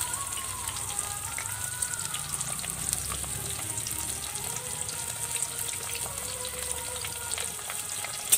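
Chopped ginger, garlic and onion fry in a pan with a steady, close crackling sizzle that holds evenly through the whole stretch, with no voices.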